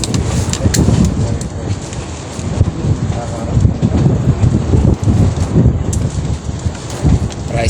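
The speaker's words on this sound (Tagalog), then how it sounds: "Priceless, hangin, lakas." Strong wind blows outdoors in a rural fishing setting, a loud, continuous roaring buffet against the microphone that gusts and surges throughout without pause.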